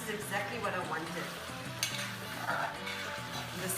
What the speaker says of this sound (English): this is now frying in this braised masala